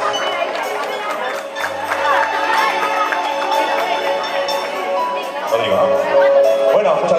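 Applause and cheering from a crowd of parents and children at a primary school promotion party in Arequipa, a dense clapping roar with shouts mixed in, with people talking over it.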